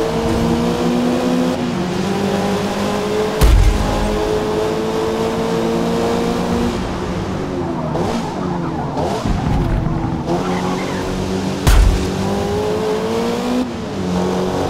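A Mazda MX-5 race car in Forza Motorsport: a loud, steady engine drone that rises and dips with revs, with brief harder bursts at gear changes and some tyre scrub, with no talking.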